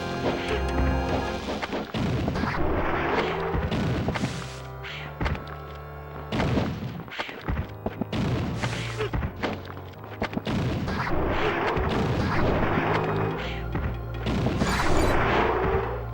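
Repeated heavy thuds and crashing booms from bombs going off in the PS1 action game Alundra, several close, loud impacts in a row over a busy game backdrop, with no talking.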